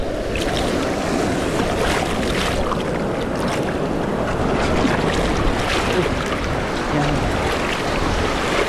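Steady roar of ocean water and surf at Casiguran, Aurora, with wind buffeting the microphone, continuous and fairly loud throughout, no clear breaks between waves.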